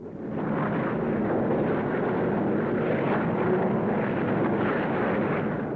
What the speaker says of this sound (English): Plane after plane.